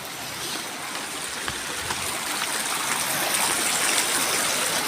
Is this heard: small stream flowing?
yes